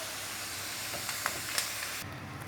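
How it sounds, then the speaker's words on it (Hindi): Potato pieces frying in hot oil for a chicken aloo curry, a steady close sizzle with faint crackles and light stirring clinks, easing slightly near the end. "1 से 2 मिनट हो गए हैं फ्राई करते हुए आलूओं को।"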